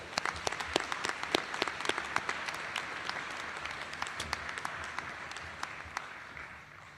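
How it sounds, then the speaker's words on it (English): A crowd at a law school commencement applauds steadily, many hands clapping in a dense patter that fades slightly toward the end. "let's give all 3 of them another round of applause."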